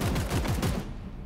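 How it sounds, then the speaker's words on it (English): Suppressive fire in Warhammer 40,000: Chaos Gate - Daemonhunters: a quick burst of about five loud, evenly spaced heavy gunshots, then a fading tail. "Suppressive fire."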